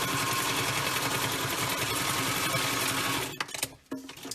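A sewing machine stitches a fabric mask with a steady, fast mechanical whir for about three seconds, then it backstitches in short stop-start bursts before falling quiet. Nearby and clear, with no talking.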